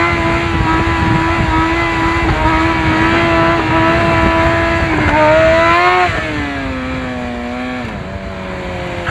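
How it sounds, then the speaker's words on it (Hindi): A Suzuki GSX-R sport motorcycle revs hard during a wheelie, its engine loud and close with a steady high drone whose pitch rises, dips and swoops as the throttle changes, with no talk. "अभी आपको विली दिखाते हैं।"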